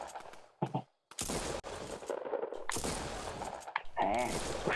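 Gunfire in Fortnite: several bursts of close, loud rapid shots separated by short silences, with a rattling mechanical sound near the end.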